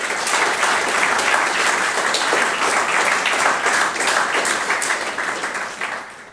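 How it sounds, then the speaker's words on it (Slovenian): Loud, dense audience applause at a school awards ceremony in Ravne na Koroškem, continuous and even before tapering slightly at the end, with no talk over it. "Zagotovo si še enkrat z vaše strani Urban zasluži en velik aplavz"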